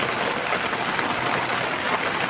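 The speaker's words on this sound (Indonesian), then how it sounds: "Wow, hujannya besar sekali, Baraya." Heavy rain falls steadily on a low farm shelter roof among vegetable fields, a dense, constant hiss filling the space, loud and close with no talking.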